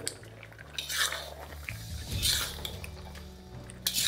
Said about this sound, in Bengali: এই ফ্লেমটা মিডিয়াম রেখে এটাকে ভালো করে মিশিয়ে নিন, ঠিক আমি যেভাবে মেশাচ্ছি